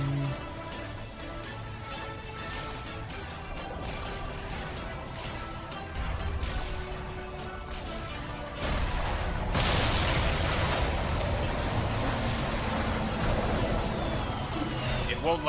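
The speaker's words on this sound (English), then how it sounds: "Throw out another nuke from the sub." A submarine launches a nuke in Supreme Commander: Forged Alliance, in a UEF match: dense rumbling crashes and booms that swell louder and heavier partway through. Voices talk over the steady game noise.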